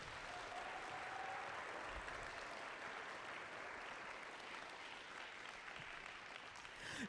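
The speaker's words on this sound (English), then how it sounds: "let's give them big enough a round of applause they can hear it all the way back there" An audience at an FTC robotics qualifier at Loveland High School applauds the judges, steady dense clapping filling the hall for the whole stretch at a moderate, even level.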